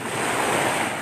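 Sea waves wash onto a beach strewn with driftwood, a steady close rush of surf with wind noise across the microphone and no speech.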